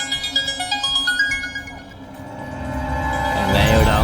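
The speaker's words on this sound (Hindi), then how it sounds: "नहीं उठाऊंगा, कितना भी फोन कर ले नहीं उठाऊंगा।" A phone rings with a repeating electronic melody, loud and close at first, then fading as a rising wash of noise takes over toward the end.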